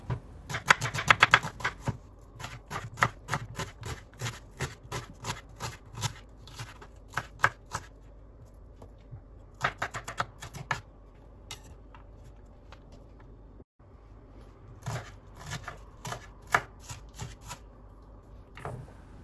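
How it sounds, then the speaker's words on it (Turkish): Two dry onions being cut with a knife on a board for a spinach dish, bursts of quick, crisp rhythmic chopping taps that pause and resume, close and fairly quiet with no talk. "İki adet kuru soğanı yemeklik olacak şekilde keselim."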